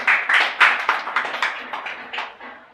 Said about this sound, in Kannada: ಜೋರಾಗಿ ಒಂದ್ಸಲಿ ಚಪ್ಪಾಳೆ ಹಾಕಿ ಅಕ್ಕವರಿಗೆ